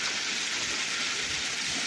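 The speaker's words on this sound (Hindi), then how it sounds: "इतना बारिश है कि घर से निकल नहीं पा रहे हैं" Heavy monsoon rain pours near a vegetable market outside Ranchi, Jharkhand, as a dense, steady hiss that stays close and unbroken from start to finish.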